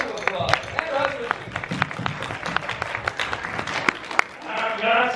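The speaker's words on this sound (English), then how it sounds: "Round of applause" Audience applause at a film Q&A screening, moderate clapping from a smallish crowd with a person talking over it near the start and end.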